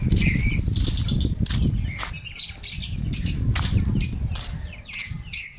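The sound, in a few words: caught lovebirds chirping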